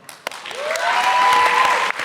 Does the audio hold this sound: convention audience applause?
yes